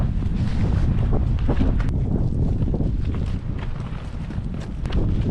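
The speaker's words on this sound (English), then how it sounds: "It's a bit windy." Heavy wind buffets the microphone on a trail in the Scottish Highlands, a constant low roar and rumble, loud and close, with no talking.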